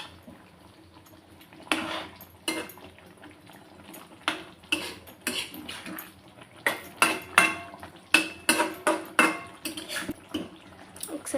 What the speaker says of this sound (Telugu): ఇప్పుడు బాగా కలిపేసుకుందాం.